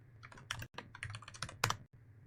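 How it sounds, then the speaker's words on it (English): Typing on a computer keyboard: quick, irregular bursts of key clicks, close and fairly quiet over a low steady hum, with a couple of brief pauses and no talking. "touch typing is not so good today"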